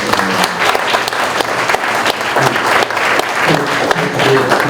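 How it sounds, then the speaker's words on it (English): Audience applause at a school board meeting fills the room with steady, dense clapping from a large crowd, loud and sustained throughout with a few faint voices mixed in. "One more round of applause for"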